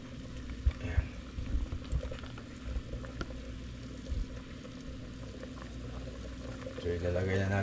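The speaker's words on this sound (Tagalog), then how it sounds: "Kumukulo na siya." Water bubbles and roils steadily at a rolling boil in a pot for chicken tinola, with occasional pops and clinks close by, and a voice speaking over it.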